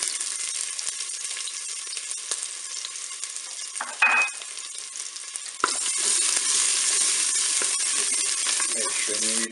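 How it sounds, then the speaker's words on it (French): Shallot and garlic dropped into hot olive oil in a Cookeo pot, hissing in a steady sizzle that swells louder midway, with a brief clink and close stirring. "mon huile est chaude, je vais pouvoir mettre mon échalote"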